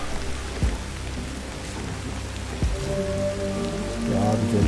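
Steady rain pours over a jungle in Ancestors: The Humankind Odyssey, a dense close hiss of drops on foliage, with a few louder thuds and rising tonal game sounds layered over it.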